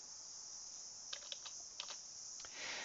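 A few light, quick clicks of a computer keyboard sound in a quiet room, spaced a moment apart and faint against a steady background hiss.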